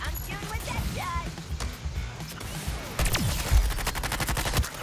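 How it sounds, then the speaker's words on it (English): Rapid gunfire from a video game weapon, a dense string of close, loud shots that grows into a fast rattling burst in the second half, with voices talking over parts of it. "Yep, I'm shooting with that gun."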